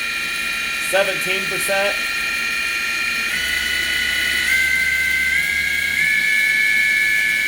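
Live tool on a 2016 Samsung SL 2500BY CNC lathe spinning up toward 5,000 RPM, its steady machine whine stepping higher in pitch several times. Someone talks briefly over the sound early on.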